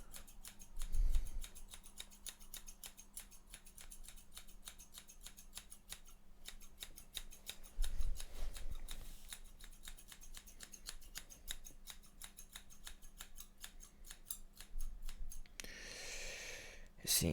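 Scissors snip through hair during a close-up haircut, a rapid run of crisp, evenly spaced cuts very near and quiet, with a few soft thumps and a brief rustle at the end.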